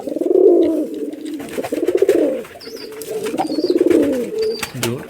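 Several close, steady rounds of throaty cooing come from a pair of Rajshahi giribaj racing pigeons, with faint high chirps and a brief rustle near the end and no voices.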